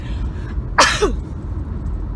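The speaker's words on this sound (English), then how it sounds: "I'm gonna sneeze." A single sharp sneeze bursts out once, close and loud, over a quiet background hum.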